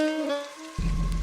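Rain falls in a Hindi cartoon moral story about a poor potter lost in a jungle: steady hissing downpour starts abruptly after a brief tonal passage and continues evenly to the end.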